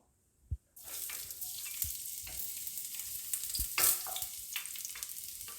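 Garlic dropped into hot oil bursts into a loud, crackling sizzle after a brief quiet moment, with a few sharp utensil knocks against the pan under the steady frying hiss.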